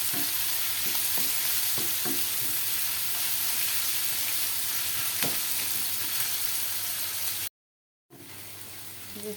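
Chopped onion and garlic frying in a small amount of oil, a dense steady sizzle with occasional clicks of stirring, then a brief silence before the sizzling returns.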